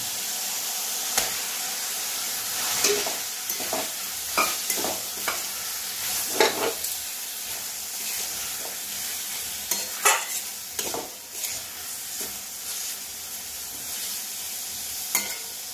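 Banana flower being stirred and fried in a spice paste cooked down in oil, with a steady sizzle and repeated scraping strokes of a spoon against the pan throughout.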